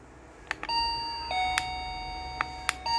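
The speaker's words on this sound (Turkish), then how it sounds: "Kablosuz kapı zilimiz böyle." An electronic remote-controlled wireless doorbell plays a bright multi-note ding-dong chime, ringing clearly in a quiet room with a few sharp clicks along the way.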